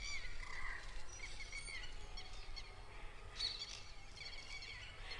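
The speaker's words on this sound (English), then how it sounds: "birds are swimming, if you can see." Birds swimming at a village pond in Morinda, Punjab, with scattered calls and chatter over a steady background hum, moderately distant and continuous throughout.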